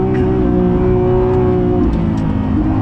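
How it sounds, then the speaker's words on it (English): Lamborghini Revuelto V12 holding a steady, loud, droning exhaust note during a drive, heard close from the cabin with a dense layered rumble and no speech. "The exhaust sounds incredible."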